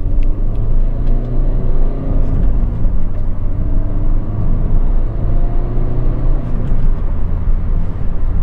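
A Peugeot 208 Féline with a 1.6 e-HDi diesel engine idles in a steady, loud, even rumble heard close up, with no voices over it.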